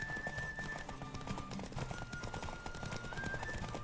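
Horse galloping in The Witcher 3: Wild Hunt, a steady rapid clip-clop of hooves with no talk over it.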